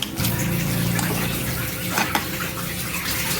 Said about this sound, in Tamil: கொஞ்சமாக புளி தண்ணி கொஞ்சம் ஊற்றணும்.